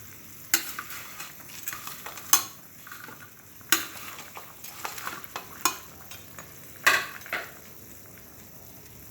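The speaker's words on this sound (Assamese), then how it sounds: "জলকীয়াকেইটা দিয়াৰ পিছতে এয়া মাছখিনি দি দিম।" Fish pieces go into a simmering Assamese fish curry with a light bubbling sizzle, broken by several sharp clanks and scrapes of a utensil against the pot, spaced irregularly and close.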